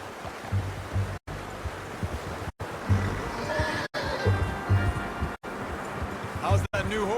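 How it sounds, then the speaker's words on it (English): A horse in the Red Dead Redemption 2 video game snorts and gives a brief whinny near the end, heard under game dialogue against a steady ambient wash with short silent gaps. "How's that new horse?"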